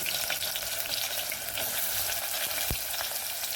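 Chopped onions sizzle steadily in plenty of hot oil for a mutton curry, a dense, even crackle close by with no pauses and no voices.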